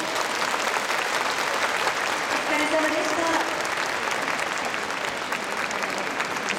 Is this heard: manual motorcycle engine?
no